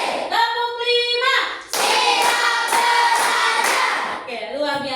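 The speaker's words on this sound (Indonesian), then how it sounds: "Tepuk lima." Schoolchildren in a classroom clap together on a count, a brisk run of evenly spaced group claps lasting a couple of seconds, framed by chanting voices before and after.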